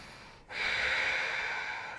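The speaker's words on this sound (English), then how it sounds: "deep breaths." A single deep breath during yoga: a short pause, then a long breathy inhale or exhale close to the mic that slowly fades.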